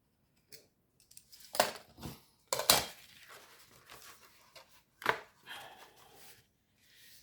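Card being cut for a handmade greeting card, a series of quiet crisp snips and clicks, some in quick pairs, with silence between them and no voices.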